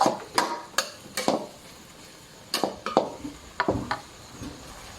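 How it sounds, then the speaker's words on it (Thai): A spatula scrapes and clinks against a wok, then serves a stir-fry of holy basil and pickled bamboo shoots onto a plate. The sound comes as a series of sharp metallic knocks and scrapes at an uneven pace, close and clear. "เดี๋ยวตักใส่จานเลย"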